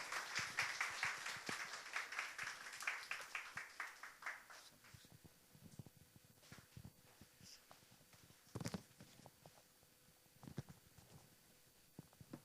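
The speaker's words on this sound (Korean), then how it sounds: "우리 박수로 우리 목사님을 환영하겠습니다." Church congregation applauding to welcome the pastor at a Sunday service, a loud wash of many hands clapping that thins and tapers into scattered, faint claps.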